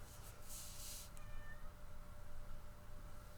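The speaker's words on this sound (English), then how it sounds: "Oh, my cat wants in." A house cat meows outside a door, wanting to be let in; a few short meows sound early on, fairly faint and somewhat distant over a steady low room hum, with no talking.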